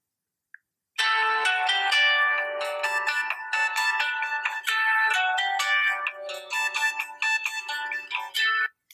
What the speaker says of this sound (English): Let's listen to the Huawei tune.